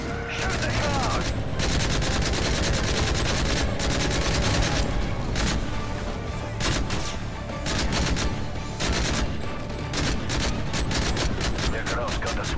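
Rapid gunfire fills a Call of Duty Modern Warfare 3 firefight, with dense bursts of automatic shots and scattered single cracks continuing throughout, loud and close.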